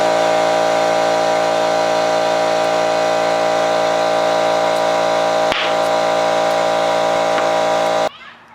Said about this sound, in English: you heard that very loud pop above the sound of my air compressor